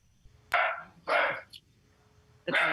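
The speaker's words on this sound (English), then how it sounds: "That's my attack dog." A dog barks three times, loud sharp barks close to the microphone with short uneven gaps, breaking into an online town council meeting.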